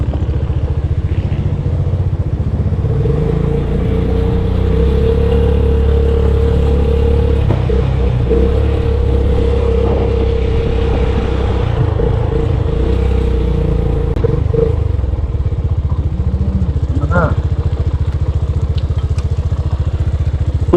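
Motorcycle riding toward the Agos river, its engine a steady close rumble and drone throughout with occasional clatter and shifts in revving, no voices.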